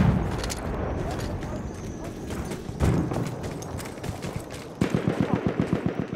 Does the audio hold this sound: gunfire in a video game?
yes